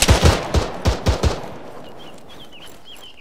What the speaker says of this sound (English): We're being shot at by the greenhouse.